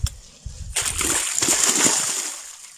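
A splash into river water followed by sloshing and churning water for a couple of seconds, fairly close.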